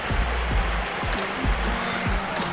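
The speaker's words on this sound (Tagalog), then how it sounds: "pumunta kami sa gitna ng ilog at ang lakas ng alon" Steady rushing water with a churning, surging roar of a strong river current and waves, loud and continuous with no voices.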